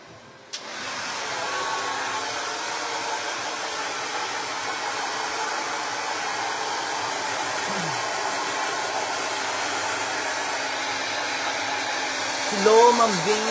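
A hair dryer blows steadily after a bath in a Japanese home, a loud continuous airy roar that starts abruptly and runs without a break, with a faint voice briefly rising near the end.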